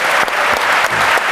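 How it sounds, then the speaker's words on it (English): A live audience at the All-In Summit breaks into a brief burst of loud, dense applause that is close and fills the whole moment. "You have a round of applause."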